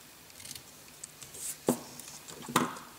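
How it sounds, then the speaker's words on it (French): Scissors cut at an angle through a paper gift card pocket tag, giving a few close, crisp snips separated by quiet pauses. "Et on va venir couper en biseau, ici."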